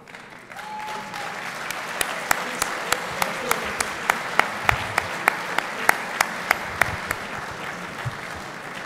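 Applause at a live political rally in Heilbronn, a steady bed of crowd clapping with a sharp rhythmic clap or beat standing out at regular intervals, building slightly and holding at moderate loudness.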